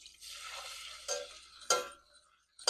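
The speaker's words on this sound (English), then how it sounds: "We've got a stick of butter that we're melting." Butter melting in a pan with Coca-Cola, a soft hiss and bubbling fry with a few sharp spoon strikes and scrapes against the pan, close and fairly quiet.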